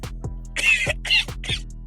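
A person coughs in a few rough bursts, three louder hacks spaced about half a second apart with short sharp catches between them, close by and without speech, from someone sharing blunts and vapes.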